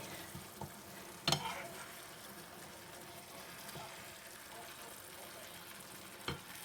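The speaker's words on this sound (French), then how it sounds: "Et ici, je fais cuire mon poulet." Chicken sizzles and fries steadily in a pan, with a few sharp clinks of a utensil against the pan.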